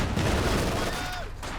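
Gunfire and a vehicle explosion in the strategy video game Company of Heroes 2, a dense continuous battle din of shots and blasts mixed with game sounds and faint commentary-like voice throughout.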